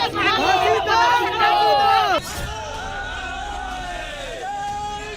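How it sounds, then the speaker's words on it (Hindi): A large crowd of thousands fills a road in Khatima, with dense overlapping voices and shouting that rises in a loud swell, then eases into a steadier, still busy babble. "सड़क पर हजारों की भीड़ उतर रही है।"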